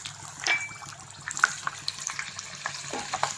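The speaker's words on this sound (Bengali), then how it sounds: "তেলটা গরম হয়ে গেছে, আলুগুলো ছেড়ে দিই।" Potatoes dropped into hot mustard oil in a pan for a Bengali country chicken curry, giving a soft, crackling sizzle with scattered pops and spits, fairly quiet and close, with no talking.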